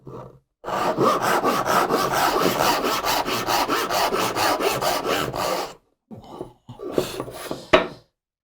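Steady rhythmic strokes of a hand saw cutting through wood for a furniture joint, about twenty quick back-and-forth passes, close and loud, then a pause and a few scattered scrapes.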